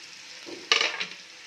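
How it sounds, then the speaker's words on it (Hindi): Chicken pieces frying in a pan, a soft sizzle with a brief burst of crackling as the food is stirred, close and fairly quiet. "चिकन वाइट तो हो गई है, थोड़ी सी और फ्राई कर लेंगे।"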